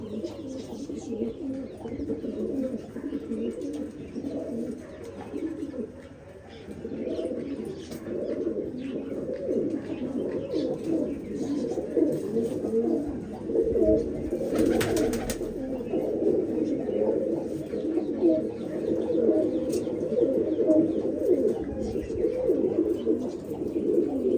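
Pigeons coo continuously in low, overlapping murmurs, several birds close by, with a brief rustle partway through.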